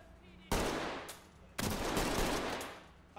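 Loud gunfire from the video game Ready or Not erupts in two close bursts: a brief volley followed by a longer sustained rattle of rapid shots.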